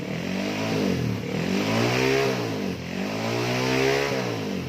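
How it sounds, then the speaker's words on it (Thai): A Honda Wave 125 motorcycle engine, freshly carburetor-tuned, revs up and settles back twice in smooth throttle swells, close and steady with no talking. "ทีนี้ก็ลองเร่งดูว่าติดมือเปล่า"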